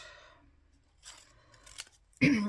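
Scissors make a single sharp snip through card near the end, loud and close, after some soft speech and rustling.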